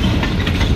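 A freight train pulling full log cars rolls past close by, with a loud, steady rumble and rail noise that fill the whole moment.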